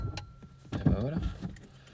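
A car engine cranks and stalls on its first start, a short burst of turning-over that catches briefly and then dies, with keys jangling close by.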